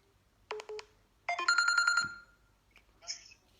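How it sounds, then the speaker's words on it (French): A phone ringing for an incoming call from a private number, short electronic ringtone bursts of repeated tonal pulses, a brief pattern then a longer warbling ring, fairly close in a quiet room. "Faut couper, il y a un qui appelle encore, numéro privé."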